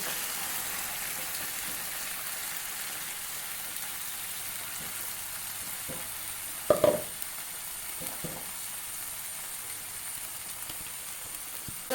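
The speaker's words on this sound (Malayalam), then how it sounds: "ഇതിൻ്റെ പച്ചമണം പോകുന്നത് വരെ നമുക്കിതൊന്ന് വഴറ്റിയെടുക്കാം" A steady sizzling hiss as ground masala paste sautés in a hot pan for prawn ghee roast, with a few brief scraping stirs near the middle and no talking.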